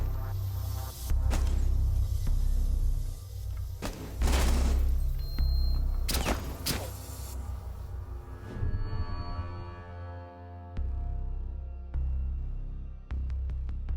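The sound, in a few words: thermite charge explosion and gunfire in video game Rainbow Six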